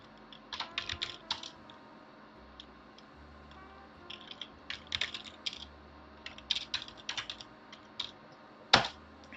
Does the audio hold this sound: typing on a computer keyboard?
yes